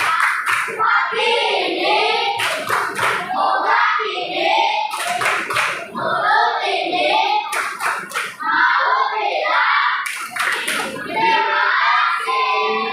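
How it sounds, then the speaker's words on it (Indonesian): A classroom audience of students gives a patterned thank-you clap for a presenting group, sharp rhythmic bursts of hand claps repeating in several cycles, close and loud, with children's voices chanting along between claps. "mari berikan kita tepuk terima kasih buat kelompok 2"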